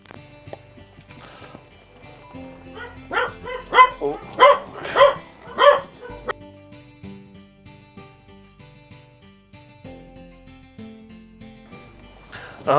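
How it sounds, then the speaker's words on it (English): Dogs bark in a burst of several loud, close woofs and yips over a few seconds, amid quieter background sounds, then fall silent. "My dogs had a word to say."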